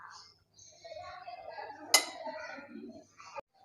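A spoon stirs half a teaspoon of cumin into a spice mix in a bowl for mooli paratha, giving soft scraping and clinking with one sharp clink near the middle.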